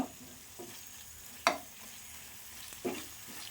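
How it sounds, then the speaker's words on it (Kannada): Masala for a hotel-style fish fry cooks on a low flame under a soft, faint sizzle, with a few distinct scraping strokes of a spoon stirring it against the pan. "ಇದು ಮಸಾಲೆ ಹಸಿ ವಾಸನೆ ಹೋಗೋ ತನಕ ಒಂದು ಎರಡರಿಂದ ಮೂರು ನಿಮಿಷ ಚೆನ್ನಾಗಿ ಹುರ್ಕೋಬೇಕು ಇದರಲ್ಲಿ ಸಣ್ಣ ಉರಿಯಲ್ಲೇ ಹುರ್ಕೋಬೇಕು"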